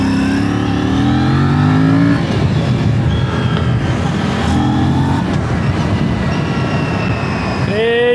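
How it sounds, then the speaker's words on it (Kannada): An Aprilia RS 457 sports motorcycle under open throttle, its engine note climbing through the gears in loud rising sweeps with shifts between, heard up close as continuous wind-buffeted riding noise. "ಸೊ ನೀವು ಒಂಚೂರು ಥ್ರಾಟಲ್ ಓಪನ್ ಮಾಡಿದ ತಕ್ಷಣ ಹಾಗೆ ಗಾಡಿ ಹೋಗುತ್ತೆ."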